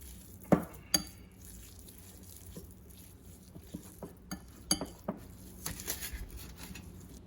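A spoon stirs salt, blended pepper and Knorr seasoning powder together in a bowl, opening with two sharp clinks, then soft scattered taps and scraping that grow busier toward the end; no one speaks.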